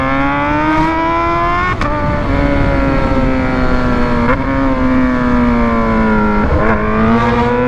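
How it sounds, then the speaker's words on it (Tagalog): A Kawasaki ZH2 motorcycle engine with a full titanium exhaust, loud with a steady revving drone, pitch wavering up and down with a few sharp throttle blips, close by and continuous. "Nakakatakot yung tunog ng motor,"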